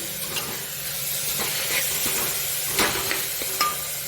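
Jaggery and grated coconut roasting in ghee over a low flame, giving a steady close sizzle and hiss with a few light scrapes and clinks of a spoon against the pan.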